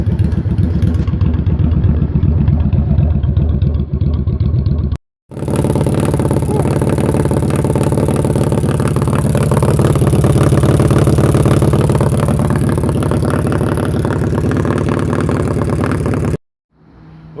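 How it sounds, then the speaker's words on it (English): A 2008 Yamaha V-Star 650 motorcycle engine idles loudly and close with a steady, throbbing mechanical rumble, cutting out briefly near five seconds, then running on until it stops as leftover fuel in the carburetor burns off. "Fuel is going to stop at this point, and the bike is going to burn"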